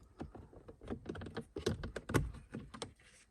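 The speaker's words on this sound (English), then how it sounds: "Now I can just pop these trims off." Plastic trim panels are prised off a car's centre console, giving a quick run of close, sharp clicks and snaps in uneven bursts, quiet overall with no talking.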